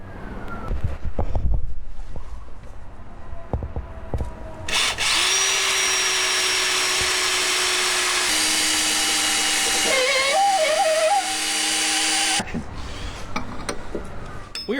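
A power drill drives hot-dip galvanized lag bolts into a cedar hot tub cover frame, a loud steady whine running for several seconds with a shifting pitch near the end, amid clatter before and after and some talk.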